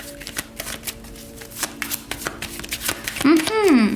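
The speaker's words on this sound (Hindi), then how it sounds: "तो चलिए शफल कर लेते हैं मेष राशि एरीज साइन के लिए" Tarot cards being shuffled by hand, a rapid run of crisp riffling flutters close up, with a short burst of louder handling and a voice chiming in near the end.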